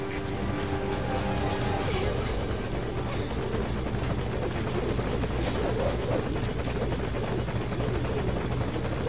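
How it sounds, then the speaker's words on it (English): A military helicopter in Metal Gear Solid V: Ground Zeroes roars loud and close with a steady, unbroken rotor and engine drone that fills the whole stretch. "Get on the chopper."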